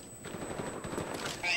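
Rapid bursts of gunfire in a Call of Duty: Black Ops video game crackle quietly in the background, with muffled voices mixed in.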